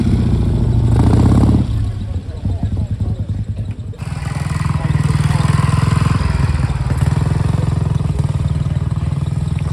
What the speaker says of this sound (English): I think that was a Royal Enfield Crusader